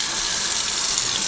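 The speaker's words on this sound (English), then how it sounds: "Turn your water on." Steady tap water runs into a sink while cooking a vegan crunchwrap, a continuous broadband rush at even loudness with no talk over it.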